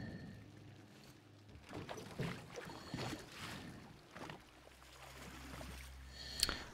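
Boat ride in the video game Metro Exodus, faint water sloshing and paddle-like splashes rising and falling at close range, with soft rumbling swells and a sharp knock near the end.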